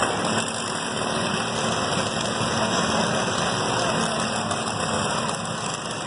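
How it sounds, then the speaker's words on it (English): Lawn mower engines run at a county fair demolition derby as a steady, continuous, moderately loud engine drone from a distance, with no clear talking. "Ross Peterson, the one who already lost the hood on his mower"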